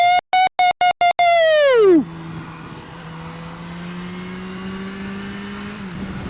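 After a short electronic beeping and a falling sweep, a motorcycle engine drones steadily while riding, its tone climbing slowly in pitch as it holds a constant, moderately loud note.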